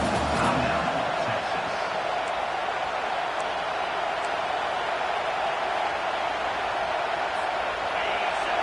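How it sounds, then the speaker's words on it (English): A steady, dense roar of a large stadium crowd in a football video game fills the space evenly, a constant wash of cheering noise with no breaks. "listen to this crowd noise. This stadium is vibrant."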